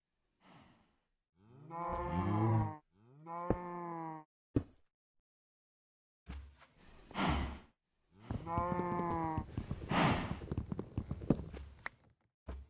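Cows mooing in the Minecraft video game: several drawn-out, low, harmonic moos in two bursts, the second longer and rougher, with a few sharp clicks between them.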